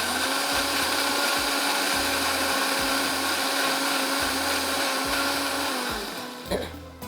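A kitchen blender grinding onion for a bhindi achaari masala runs loud and steady with a strong whirring motor hum, then slows and stops near the end with a brief clatter.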